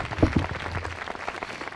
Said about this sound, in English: a round of applause for Max G